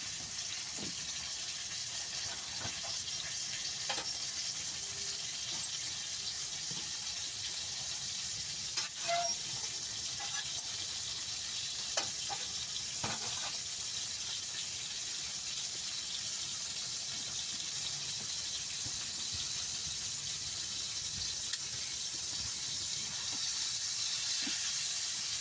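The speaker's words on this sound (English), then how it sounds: "listen to that sizzle" Ground beef sizzles steadily in a hot pan, a continuous crackling hiss with occasional pops and faint clatter, close and unbroken.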